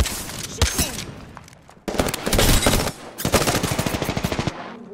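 Rapid automatic gunfire in Apex Legends, loud and close, fired in several long bursts with brief pauses between them and no talk.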